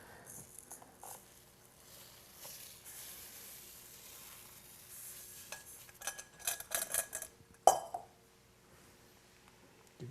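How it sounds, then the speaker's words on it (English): Long grain rice poured into boiling broth for seafood jambalaya, a quiet simmering hiss building into a burst of louder clattering and scraping near the end, with one sharp clink. "now that our broth is boiling, we're going to add our long green rice to it."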